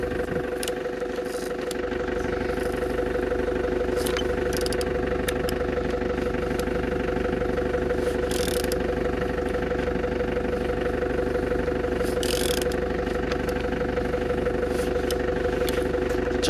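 Engine on aircraft CE03UZK being turned over during an inspection, a steady mechanical drone with rhythmic clatter running continuously at a constant level, with no voices.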